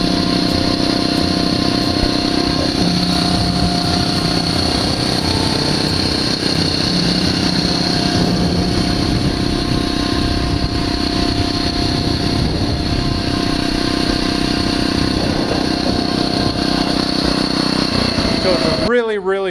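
A Phatmoto motorized bicycle's small engine runs on loudly and steadily after a full-throttle run, a continuous buzzing drone at a near-constant pitch that cuts off abruptly at the end.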